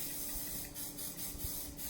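Several short bursts of hairspray hiss out of an aerosol can while volume is added to a Bridgerton-style updo, each puff soft and close against a low background hum.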